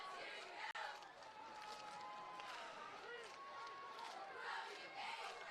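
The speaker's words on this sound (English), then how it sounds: "The crowd's alive again." A high school varsity football crowd roars and cheers from the stands under Friday night lights, a continuous distant wash of voices with scattered shouts and a brief sharp knock near the start.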